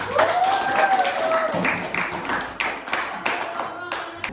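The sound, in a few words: class clapping hands together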